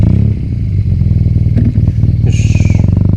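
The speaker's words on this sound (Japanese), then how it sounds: "ちょっとじゃあバイク乗りましょうか。" A BMW R nineT Racer motorcycle being ridden, its engine heard up close and loud as a throbbing, pulsing note that rises and falls through the throttle, with some mechanical clatter.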